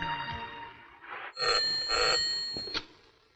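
A telephone rings in short trilling bursts, two or three rings in a row, fairly clear over a quiet room with no speech.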